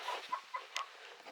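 Several chickens and roosters, including barred rock hens, cluck in short soft bursts at close range, with brief sharper calls standing out over a low, steady flock murmur.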